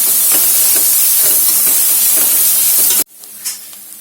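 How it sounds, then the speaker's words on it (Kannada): Onions and curry leaves frying in oil for matar palak paneer hiss loudly and steadily for about three seconds. The sound then drops to a quieter sizzle with a brief knock, and no one talks. "ಕರಿಬೇವನ್ನ ಹಾಕೊಳ್ಳೋಣ. ಈರುಳ್ಳಿಯನ್ನ ಫ್ರೈ ಮಾಡ್ಕೊಳ್ಳೋಣ."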